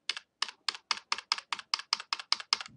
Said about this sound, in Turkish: klavyemizden delete tuşuna bastığım zaman